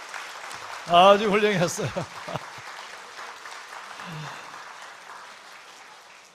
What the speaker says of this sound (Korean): 우리 친구들 다 들어갈 때까지 박수 쳐요.